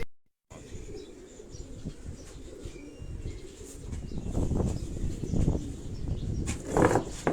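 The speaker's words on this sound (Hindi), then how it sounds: "ये दोस्तों, ये वो कबूतर है जिस कबूतर का मैं आपको शौक करवाने जा रहा हूँ।" Pigeon cooing on a rooftop, low repeated coos among chirps and outdoor background noise, growing slightly louder toward the end after a brief silent start.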